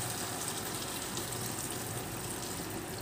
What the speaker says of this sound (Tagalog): Lagyan na rin natin ng konting tubig lang.